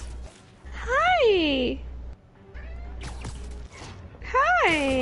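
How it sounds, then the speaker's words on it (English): A house cat meows loudly right up against a microphone, two drawn-out, rising-then-falling cries about three seconds apart, with people talking and a low hum between them. "Stop putting your cat near the fucking mic."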